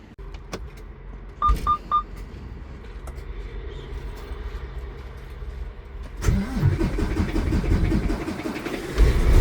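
A semi truck's engine is cranked and fires up, close and loud. Clicks and a short whirring come first, then the engine catches and settles into a rumbling idle that swells toward the end.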